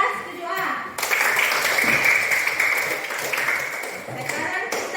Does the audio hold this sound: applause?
yes